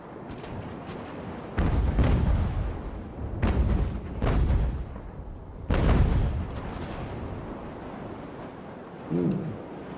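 Broadside cannon fire from sailing warships in Ultimate Admiral: Age of Sail booms out in a string of heavy, rumbling shots over several seconds, some close and loud, others softer and more distant, echoing over a low battle din.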